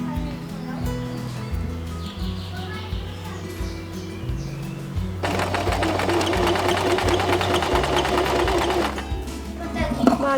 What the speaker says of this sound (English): I placed my lining on top of the dress and sewed the top